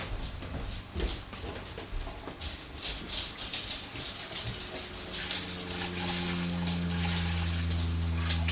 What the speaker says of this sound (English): I washed my hands